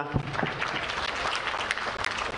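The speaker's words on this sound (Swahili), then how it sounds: "Naomba makofi mengi sana" Audience applause at the opening of the 46th Sabasaba international trade fair, a dense, steady wash of clapping from a large crowd with a few sharper near claps, filling the whole stretch without talk.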